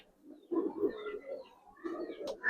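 Giribaz pigeon, an old-breed silver bird, gives a short run of soft throaty coos in two close bursts, near and fairly quiet, with no one talking.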